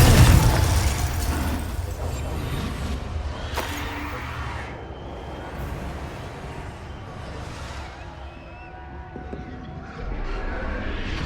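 Confringo spell blasts in Hogwarts Legacy, a loud burst at the start followed by a couple of sharper cracks amid steady battle rumble and scattered impacts, with no talk.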